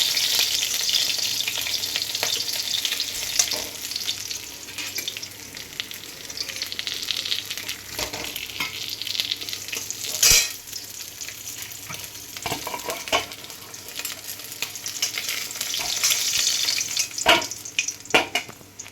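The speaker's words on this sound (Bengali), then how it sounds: "টক রান্না করার জন্য মাছগুলো লম্বা করে ভেজে নিয়েছি" Fish pieces, cut long for a sour mango fish curry, fry steadily in hot oil in a kadai while being stirred, with a continuous close sizzle and occasional clinks and scrapes throughout.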